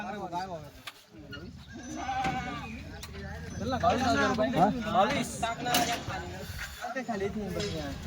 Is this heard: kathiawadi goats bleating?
yes